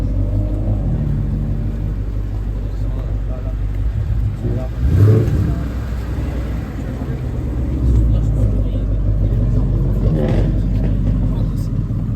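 A GT sports car covered in carbon and fitted with a carbon wing pulls away with a deep engine rumble and a couple of revving surges, while people talk nearby throughout.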